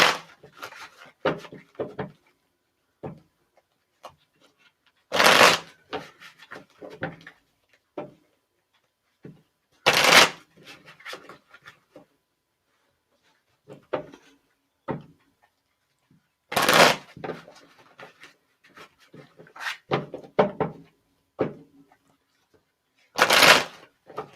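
Cards are shuffled and laid out for a reading in sharp riffling bursts every few seconds, with softer slaps, taps and rustles scattered between them in a quiet room.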